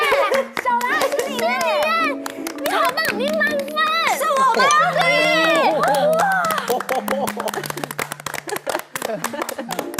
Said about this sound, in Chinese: 请大家为小兰拍拍手